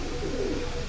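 Aluminium-breed silver pigeons give a brief, soft coo, a single low murmuring call with no voices.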